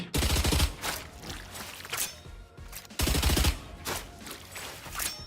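Gunfire in the Valorant video game, loud rapid bursts of automatic shots in two main volleys separated by a brief pause, with no talk over them.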